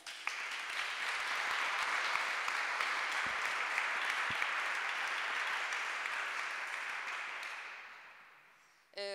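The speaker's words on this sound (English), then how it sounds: "let's give an applause to them." An audience applauds a panel discussion on smart cities, a sustained wash of many clapping hands that swells, holds steady and tapers off near the end.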